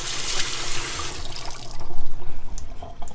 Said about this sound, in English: You might want to give it a rinse